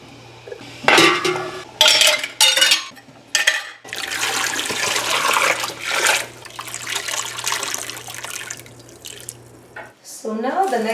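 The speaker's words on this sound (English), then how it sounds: "So let's start by boiling our jars for about 10 minutes." Glass jars clink against a metal pot while they boil in water for canning pickled baby onions, water splashing and bubbling, with clattering bursts and a steady low hum; a voice speaks briefly at the end.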